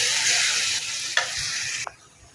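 Spices for kechki fish fry in a pan with a steady, close sizzle and stirring scrapes, broken by a couple of sharp clicks before the sizzle suddenly drops away near the end.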